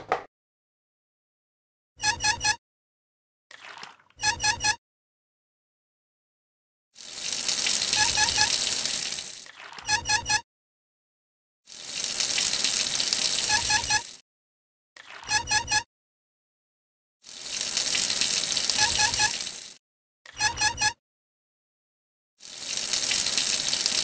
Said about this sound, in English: To do this, you will have to transfer water from a small to a large bucket several times.